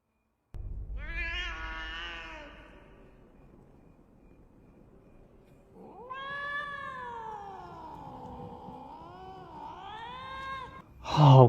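A cat outside meows and wails insistently to be let in at night, long drawn-out cries with rising and falling pitch, one near the start and a longer stretch later, fairly clear against a quiet room.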